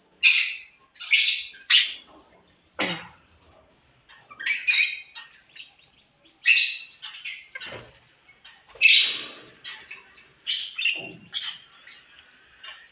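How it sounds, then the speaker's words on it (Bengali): Pet birds in an indoor cage give loud, close squawks and sharp chirps in irregular bursts, several calls overlapping with short quiet gaps between them. "সকালবেলা এসে পাখির ডাক শুনে ঘুম ভাঙলে"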